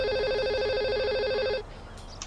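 A loud, near electronic phone ring from Grand Theft Auto Online trills steadily for about a second and a half, then stops abruptly, leaving quiet background.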